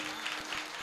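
Audience at a Marathi kirtan devotional gathering clapping together, a brief steady wash of many hands at moderate level with no voices over it.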